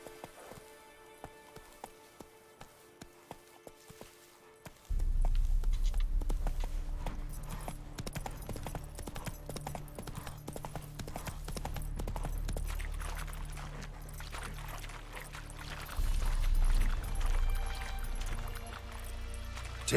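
Roach the horse trots in The Witcher 3. Faint, regular hoof clicks come first, then the clopping continues under a louder, fuller ambient bed that swells toward the end.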